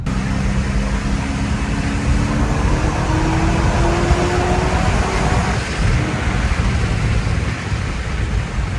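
A supercharged C5 Corvette under way on a test drive, its engine giving a steady, loud, continuous drone with a rising tone as it pulls, mixed with road and wind roar and no talk.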